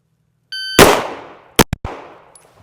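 Rifle gunshots during a combat shooting drill, one sharp loud report followed by three quicker close shots, each leaving a short decaying ring, with no talk.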